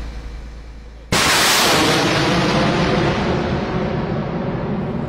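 A loud artillery blast erupts suddenly after a quiet second, striking a terrorist stronghold, then a heavy rumbling roar lingers and slowly fades.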